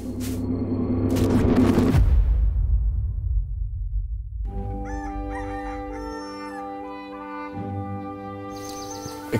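A rooster crows loudly at night, a drawn-out harsh call, followed by a deep rumbling boom and then a series of sustained tonal bird calls.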